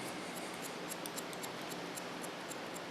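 Hair scissors snip repeatedly while cutting hair in a salon, a rapid series of crisp, light metallic clicks over a faint hiss, close and quiet.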